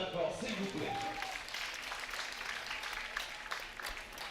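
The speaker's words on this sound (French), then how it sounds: "On l'applaudit encore très très fort, s'il vous plaît." Spectators at a show jumping competition applauding rider Charlotte Lebas, a moderate, sustained ripple of clapping with an announcer's voice over it.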